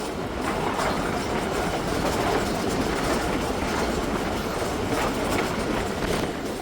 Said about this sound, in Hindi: टेथा पहुंच रही है इस वक्त दोस्तों ट्रेन